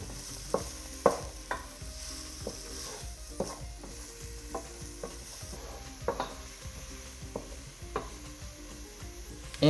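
Onions frying in hot oil, a soft steady sizzle broken by repeated scraping knocks of a utensil stirring the pan in an irregular rhythm, close by.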